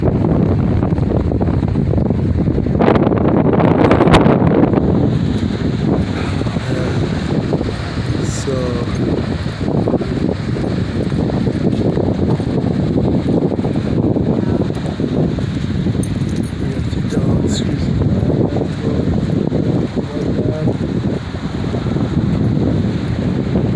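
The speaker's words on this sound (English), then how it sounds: "The wind's so hard." Strong wind roars and gusts through bending palm trees, a loud continuous rush buffeting the microphone, with someone talking over it.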